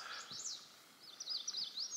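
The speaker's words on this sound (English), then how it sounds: "Trying to see this little bird that's singing here in this tree." A small bird sings in a tree nearby in quick, high, warbling chirps, one short phrase followed by a longer twittering run, against a quiet background.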